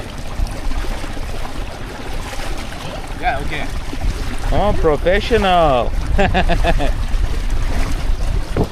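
Steady rush of water and wind noise from a moving boat, with people talking over it partway through.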